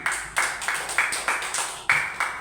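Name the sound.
applause for the corn group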